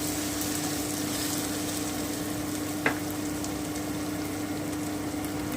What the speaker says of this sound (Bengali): এবারে আমি আদা বাটিটা দিয়ে দিচ্ছি